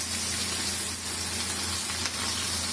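Onions frying in hot oil in a pan just emptied of fried rohu fish pieces, giving a steady, dense sizzle that holds level throughout with no talk over it.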